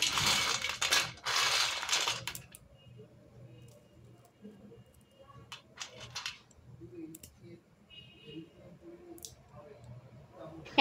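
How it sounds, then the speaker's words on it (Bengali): Crisp fried snacks made from rice flour crunch and crackle in loud bursts at the start, followed by quieter scattered clicks and cracks. "এগুলো কতটা মুচমুচে হয়েছিল তা আপনারা শব্দটা শুনে আশা করি বুঝতে পারছেন"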